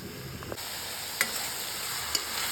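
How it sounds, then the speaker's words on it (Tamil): Ridge gourd sautéing in a pan for a Tamil-style kuzhambu, giving a steady close sizzle with a couple of sharp stirring clicks of a spoon against the pan. "ஒரு 2 நிமிஷம் வதக்கினா போதும்."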